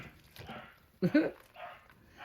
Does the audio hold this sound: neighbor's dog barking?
yes